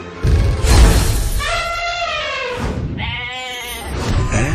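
A goat bleats loudly and close in two long, wavering cries, the second following after a brief pause, heard in a family film trailer.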